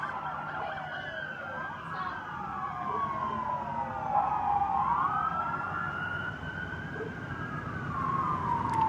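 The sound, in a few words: police car sirens racing through traffic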